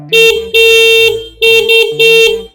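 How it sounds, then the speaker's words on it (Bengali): The horn of a three-wheel Power Plus electric bike blares in loud, close bursts of a tuneful, stepping multi-tone melody, repeated several times with short gaps. "এখানে কিন্তু আপনার যে হর্নটা"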